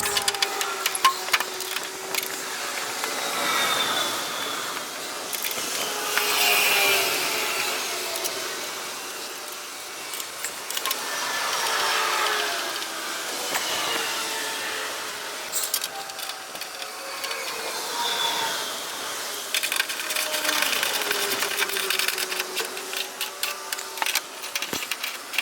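A Thermo King Evolution APU on a truck runs steadily at close range, giving a continuous mechanical hum with a blowing fan, some ticking and rattling on top, and no talk.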